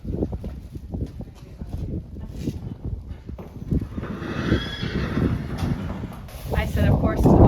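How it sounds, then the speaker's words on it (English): Horse hooves clip-clopping as a horse named Buddy is led into a stall, with a loud whinny near the end and people talking over the steady footfalls. "we'll get Buddy here into a stall and figure out what's going on."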